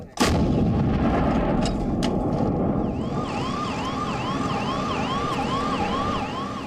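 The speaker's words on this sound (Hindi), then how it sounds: "दोनों पक्षों के बीच बमबारी एक आम सी बात है" Artillery shelling in the Ukraine war: a sharp, loud blast opens, followed by a sustained rumbling roar with a wailing siren cycling repeatedly in the distance.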